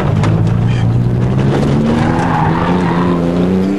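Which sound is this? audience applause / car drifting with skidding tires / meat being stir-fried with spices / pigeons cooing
car drifting with skidding tires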